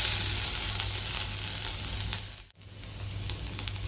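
Chopped garlic sautéing in a spoonful of oil in a kadai on a gas stove, a steady close sizzle and fry hiss running throughout with a brief dip partway.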